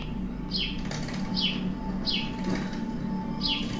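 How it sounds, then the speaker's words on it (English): Wings flapping in repeated quick bursts, about four in all, as a bird flies in at a window, heard at moderate distance over a steady low background hum with no talking. "Bird flying in. Or bird at the window,"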